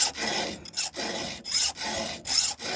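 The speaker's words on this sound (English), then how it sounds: "This is a 5/32 file on a Husqvarna chain" A 5/32 round file sharpening a Husqvarna chainsaw chain: four or five close, rasping push strokes separated by brief pauses, with no one speaking.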